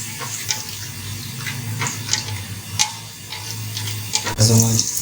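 Onions lightly sautéing in a pot for mutton handi, with soft sizzling and several stirring scrapes and clinks of a spoon against the pot, plus a louder clatter near the end.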